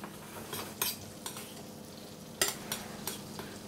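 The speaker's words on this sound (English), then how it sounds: "Add a knob of butter, get it foaming and get some lovely caramelisation on that shallot." Shallots caramelise in foaming butter in a pan, giving a faint, steady low sizzle with a few sharp utensil scrapes and clinks scattered through it.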